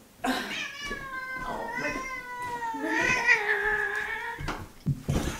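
A long, drawn-out angry cat yowl that rises and wavers, close and loud, ending with a short grumbling sound.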